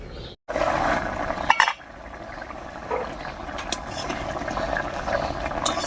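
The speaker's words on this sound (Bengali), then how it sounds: "বলক উঠে গেছে রান্নায়" Prawn curry boils in a pot with a steady bubbling roar, close by, broken early by a brief clatter as the lid is handled, then settling into an even simmer.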